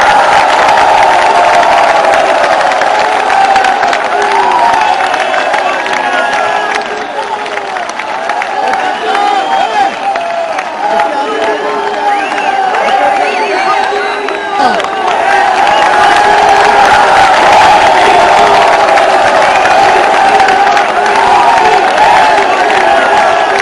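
A large crowd at a political rally for a politician applauds and cheers loudly and continuously, a dense roar of clapping and shouts mixed with an amplified voice speaking over it.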